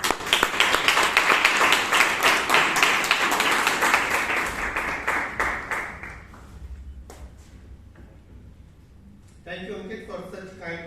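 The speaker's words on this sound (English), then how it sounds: "Can we have a big round of applause for the general evaluator of the meeting" Toastmasters meeting audience in Bangalore gives a round of applause, dense clapping for about six seconds that thins and fades, followed by a quiet stretch and then a voice starting to speak.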